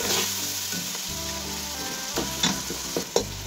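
Tomatoes and masala frying in ghee in a pan for a pumpkin and chicken dish, a steady close sizzle with a low bubbling hum and occasional stirring scrapes, no talk.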